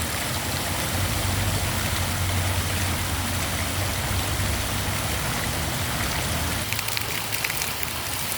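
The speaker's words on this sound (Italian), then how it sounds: "questo mormorio dell'acqua è davvero una terapia per l'anima e per il corpo" Water murmurs from a fountain with a small nymph figure in the historic town centre of Gemona del Friuli, a steady close splashing rush that runs continuously without a break.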